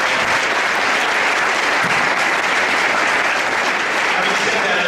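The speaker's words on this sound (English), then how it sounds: "give them a quick round of applause" Audience applause at a school winter sports awards ceremony, steady dense clapping from a large crowd that fills the whole span at full loudness without a break.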